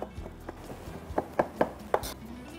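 A knife finely chops boiled chicken on a board, a handful of crisp, close taps in an uneven rhythm, sparse at first and then quicker, with faint kitchen background.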